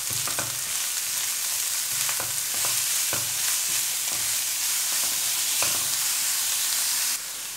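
Grated carrot and capsicum stirred into frying chicken for samosa filling, a constant close sizzle broken by regular scraping knocks of the spoon against the pan, with no talk.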